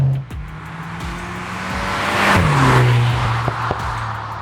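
2021 VW Golf 8 GTI with an Eisenmann exhaust driving, a deep engine drone that rises in pitch as it accelerates, then settles back, close and fairly loud, with no speech.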